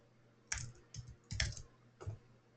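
Someone types a name on a computer keyboard. Four short, soft clusters of key clicks fall at irregular intervals in a quiet room, with no talk.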